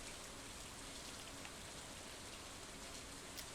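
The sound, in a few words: rain falling in the video game Stardew Valley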